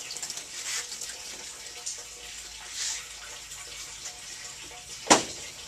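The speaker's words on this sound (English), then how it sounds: "I'm doing a pour method. I'm going to take tin and make sure that I get into all these little pores" Tin solution poured over glass during mirror silvering until it overflows, a soft continuous trickle and splash of liquid with a sharp louder splash near the end, close and without talk.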